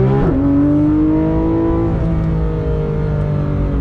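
Porsche 911 GT3 RS engine revving hard under acceleration, a loud, close, rising howl that climbs smoothly in pitch and then drops briefly at a gear change before climbing again.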